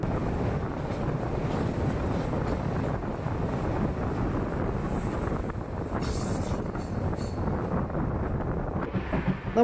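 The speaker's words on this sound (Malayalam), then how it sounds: "നമ്മുടെ ട്രെയിൻ ഇപ്പോൾ ഇതാ വലിയ തുരങ്കങ്ങളിലൂടെ പോകുന്ന പോലെയുള്ള വലിയൊരു ഫ്ലൈ ഓവറിന് അടിയിലൂടെയാണ് ഇപ്പോൾ ഇതാ പോയിക്കൊണ്ട് നിൽക്കുന്നത്" A train travels on the line from Yeshwantpur toward Chikkaballapur, passing beneath a large flyover; a steady, loud rumble of wheels and rushing wind fills the whole stretch, with no voices.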